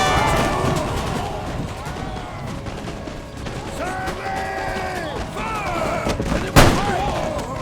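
Musket volleys from an infantry battle in the game Empire: Total War, steady crackling gunfire and clatter with one louder crack near the end, under ongoing battle noise.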